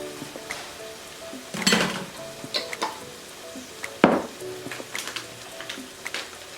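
Ginger garlic paste spooned into a hot pan for an Indian chickpea curry, soft sizzling broken by a few loud clatters of a spoon and pan, with lighter metallic taps in between.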